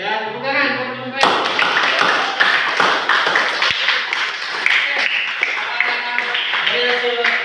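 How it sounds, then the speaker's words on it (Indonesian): A classroom of students claps for a presenting group, a burst of applause breaking in after a moment of quieter sound and continuing busy and close, with some voices mixed in. "ya tepuk tangan buat teman baik"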